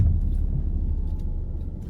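Car engine idling and pulling away after being shifted into drive, a steady close low rumble that fades slightly over two seconds.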